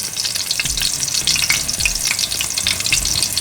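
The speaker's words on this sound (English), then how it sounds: "once you have the oil heated up really good and the salmon in there" Salmon frying in well-heated oil, a loud close sizzle and spatter with soft stirring scrapes mixed in, and nobody speaking.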